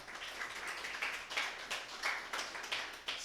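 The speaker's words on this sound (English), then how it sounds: "Please give him a round of applause." An audience at an event tribute gathering claps in a thin, scattered round of applause, fairly quiet and somewhat distant, with uneven bursts of hand claps over a few seconds.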